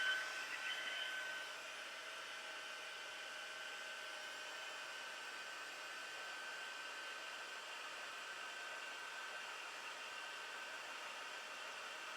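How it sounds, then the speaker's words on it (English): A steady, loud blowing hiss from a heat embossing tool runs unbroken, with a slightly stronger burst at the very start. "And then I'm going to use my heat tool. So I apologize for the noise."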